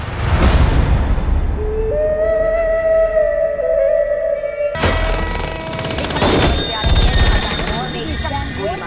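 Gunfire rings out in a Bollywood film scene, several rounds fired inside a hotel, with sharp bursts in the second half layered over music, a tonal whistle and dense background sound.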